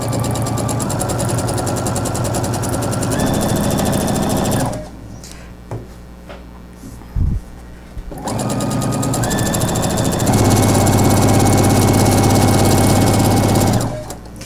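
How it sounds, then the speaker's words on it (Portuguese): A domestic sewing machine topstitching all the way around a simple cloth napkin, running in fast, loud mechanical bursts that stop for a few seconds of near-quiet with small handling knocks, then start again. "Eu vou fazendo um pesponto aqui em toda a volta."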